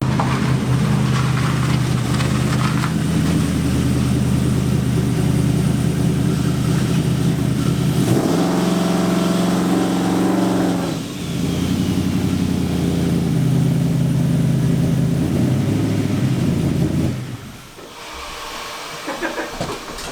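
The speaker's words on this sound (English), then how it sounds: "Okay, I'm gonna go grab that car and drive around here." A car engine runs and revs steadily as the car is driven around, loud and continuous, with a brief dip mid-way before the engine sound drops away near the end.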